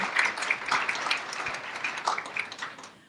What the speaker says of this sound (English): Let's have one more round of applause for our wonderful singers from Seoul.